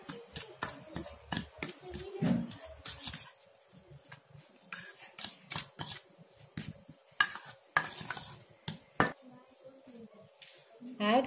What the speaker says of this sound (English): Mix all together.